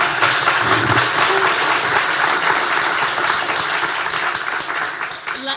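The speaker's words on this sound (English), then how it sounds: "Please give them another round of applause." An audience at a retail business talk applauds with dense, sustained clapping from many people, loud and even throughout before easing slightly at the close.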